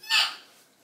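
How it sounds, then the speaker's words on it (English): A baby lets out one short, bright squawk close by, fading quickly into quiet. "He started to make some very funny squawks now."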